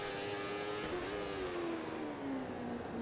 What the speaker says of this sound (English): Try and get a good acceleration off this penultimate corner into the final corner.